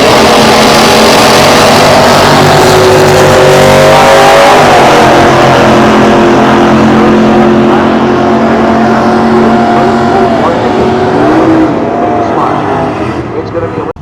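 Muscle cars at a drag strip, including a Plymouth Valiant, roar with loud sustained engine noise and shifting harmonic tones, with crowd and announcer-style talk mixed in throughout.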